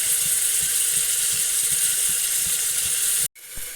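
Onions fry in heated sesame oil with a steady, close sizzling hiss and faint regular ticking underneath, then the sound cuts off abruptly near the end.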